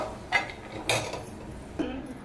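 Fried raisins are moved from a pan into another bowl, giving a few light clinks and scrapes of a metal spoon against cookware, soft and close.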